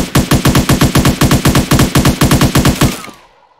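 Rapid gunfire from a gun in a Minecraft mod, about twenty evenly spaced loud, punchy shots in a fast steady rhythm, then an abrupt stop with a short fading tail, no talking.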